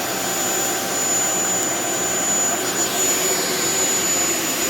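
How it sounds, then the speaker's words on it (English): A Shark Vertex corded stick vacuum with DuoClean PowerFins runs with a steady, even whine and airflow hum, close up with no talk over it. "This is a good sounding vacuum."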